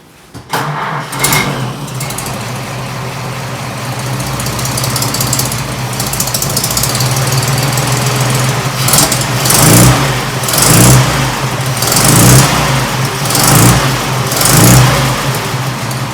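A 1926 Oakland car engine cranks and catches, then runs loud and close, idling roughly with several rhythmic revs rising and falling.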